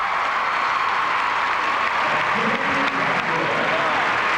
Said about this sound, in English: More applause from Shannon Miller.